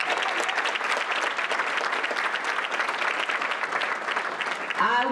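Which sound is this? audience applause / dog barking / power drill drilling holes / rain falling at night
audience applause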